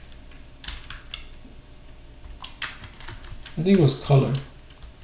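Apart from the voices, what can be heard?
typing on a computer keyboard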